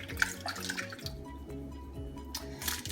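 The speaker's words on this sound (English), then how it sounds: "I'm going to fill this halfway with water and add it into the pot" Water is poured from a container into a slow cooker pot, a steady trickling splash that runs unbroken at moderate volume over a low background hum.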